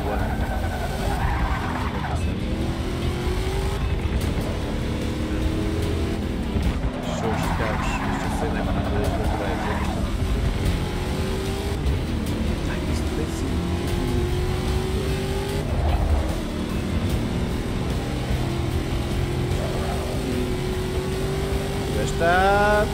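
Race car engine and tire squeal in Forza Motorsport 6 Apex, with loud continuous revving, rising and falling gear sweeps and skidding, while people talk over it throughout.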